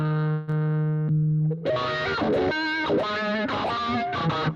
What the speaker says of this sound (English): let's take that distortion pedal and put it before the wah